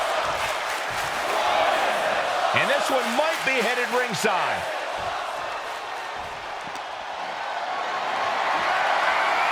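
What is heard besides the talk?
crowd cheering reaction in WWE 2K25 wrestling video game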